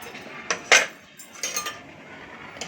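Semolina and wheat flour are mixed in a bowl for rava dosa, with a spoon clinking and scraping against the vessel in a few quick, close taps.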